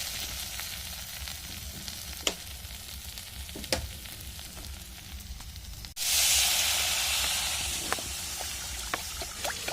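Water poured into a pan of sizzling fried spice masala for a fish curry with aubergine: soft frying crackle with a few utensil clicks, then a sudden loud hissing burst of steam that slowly fades.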